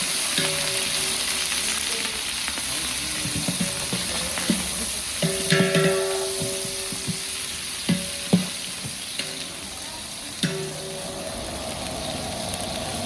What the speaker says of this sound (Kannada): ಇದು ಈರುಳ್ಳಿ ಫುಲ್ ಬ್ರೌನ್ ಆಗ್ತಾ ಇರೋದಂತ ಮಿಕ್ಸ್ ಮಾಡ್ಕೊತಾ ಇರೋದು